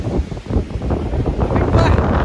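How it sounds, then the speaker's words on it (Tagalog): Strong spring wind buffets the microphone outdoors in Banff, Alberta, with a loud continuous rumble and gusty roar throughout. "Lakas ng hangin."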